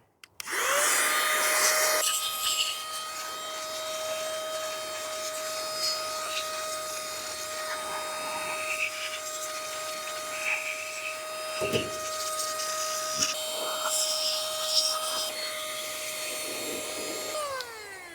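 Compressed air blows dust out of a Montech PC case with a loud, steady high-pitched hiss and whine that runs nearly the whole time, close by, with brief shifts in pitch and a few clicks.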